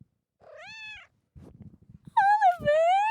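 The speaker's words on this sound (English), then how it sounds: "Does Oliver want to talk in the microphone? Hey, Ollie. Meow" A house cat meows loudly and close by, two drawn-out wailing calls with a short pause between them, and soft rustling fills the gap.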